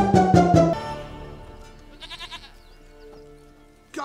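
A goat in the video game Witcher 3 gives a loud, close, wavering bleat, then a softer second bleat after a pause, over a quiet game background.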